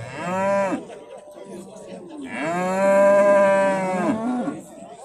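Two loud, close cow moos at a livestock market in Alay, Kyrgyzstan: a short low call, a brief pause, then a longer drawn-out bellow.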